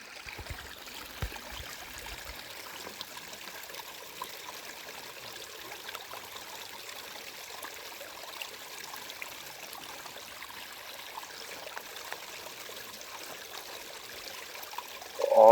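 Water rushes steadily through an underground tunnel, a faint, even stream-like wash with small trickling details running throughout, ending with a brief louder sound at the close.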